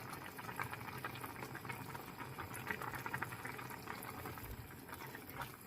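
Two packs of pork kimchi ramen with kimchi and anchovy fish sauce boil steadily in a pot, a continuous close bubbling and rolling burble with no voices.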